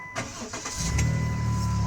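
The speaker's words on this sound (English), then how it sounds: "Let's listen to the engine." A 2008 Dodge Grand Caravan work van with a restored engine starting up and settling into a steady, loud mid-pitched idle close by.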